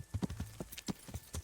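Horse hooves clip-clop in a quick, uneven rhythm in the video game Kingdom Come: Deliverance, several steps on a hard surface, fairly faint with no talking.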